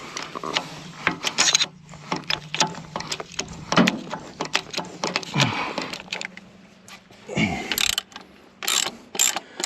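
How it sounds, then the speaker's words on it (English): A hand jack raising the rear of a tracked vehicle with a thrown track, giving close, repeated ratcheting clicks and mechanical clunks in uneven bursts, with occasional heavier metallic knocks. "We're going to jack up the back end now."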